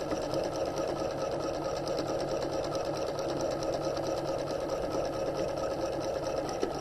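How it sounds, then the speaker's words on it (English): A sewing machine stitches a plain seam along a folded hem with a fast, even mechanical whir and rapid needle rhythm, loud and steady throughout with no pauses. "we're going to use a plain seam and just stitch through that"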